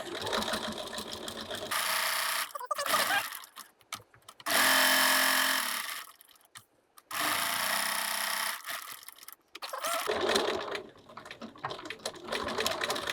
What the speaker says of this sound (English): just back tack a couple of stitches to secure it, perhaps a couple of times to give it strength